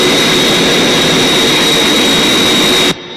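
Zero X aircraft engines at lift-off in the Thunderbirds movie, a loud, steady roaring jet rush with a sustained high whine, filling the clip alone before cutting off abruptly near the end.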